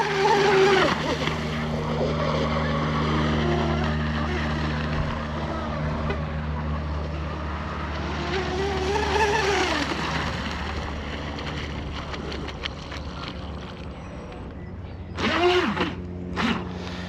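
A small carbon fiber electric RC race boat whines steadily across water, its motor pitch rising and falling as it speeds past, with wind noise and a brief voice near the end.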